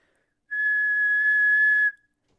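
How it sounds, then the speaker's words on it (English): A person whistles one steady, clear, pure note in a physics lab, sustained for about a second and a half and then stopping, with silence on either side. "go ahead and whistle"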